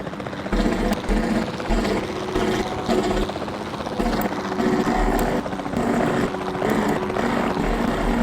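A helicopter flies in the video game Jurassic World Evolution 2, its rotor and engine drone loud and steady, pulsing slightly across the whole stretch with no talk.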